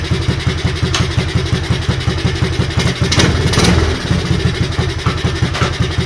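A 1985 Honda TRX125 ATV engine runs close by with a steady, pulsing single-cylinder chug, swelling briefly to a louder burst of revving before settling back to an even idle; no one speaks.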